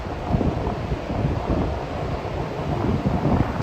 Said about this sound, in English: Windy though, it's the only thing.